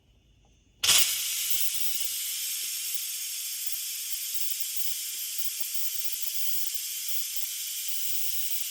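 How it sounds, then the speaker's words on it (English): An Instant Pot pressure cooker vents its steam in a sudden loud hiss that starts abruptly and then holds as a steady, unbroken rush, with no talking over it. "I am going to let the steam out. It is pretty loud"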